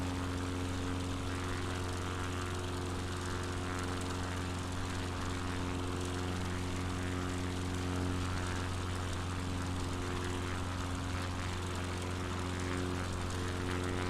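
Simulated light propeller plane engine in flight, held below 2700 rpm, produces a constant, even drone with a steady low hum and no breaks, heard alone without speech.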